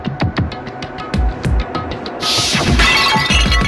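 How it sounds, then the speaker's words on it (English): A glass bottle smashed across someone's head in the Danganronpa video game: a loud bright crash of shattering glass after a run of sharp thumps and clatters, with crunching debris continuing to the end. "I grabbed the Monokuma bottle from the shelf and smashed it across her head!"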